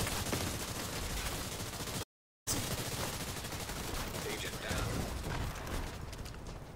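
A dense, sustained firefight in The Division 2, with overlapping automatic gunfire and volleys that run almost without pause apart from one brief silent break.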